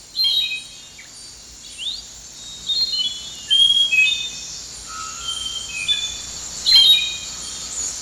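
Scattered bird calls ring out in a Central American humid forest, short squawks and high chirps at irregular intervals over a faint, steady insect hum.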